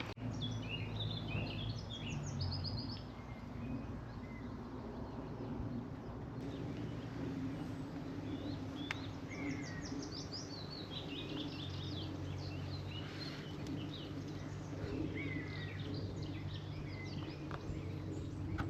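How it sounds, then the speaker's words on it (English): Wild birds chirp and sing faintly and intermittently at a distance during a countryside walk along the Fosse Way, over a low steady outdoor background hum. "I just thought I'd let you know what the birds are that we can hear here."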